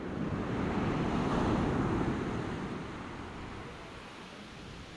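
Ocean waves break steadily on a beach during a surfcasting fishing session, a broad continuous wash of surf with wind noise on the microphone, loudest early and easing slightly toward the end.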